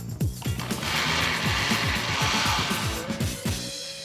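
A blender whirs through a Greek marinade of olive oil, lemon zest, herbs and black pepper, giving a steady, close, loud churning with rapid choppy pulses as the blades catch the mixture.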